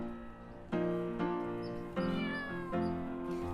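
A cat meows several times in a row, loud and close, each cry drawn out and wavering, with short pauses between calls and no talk over it.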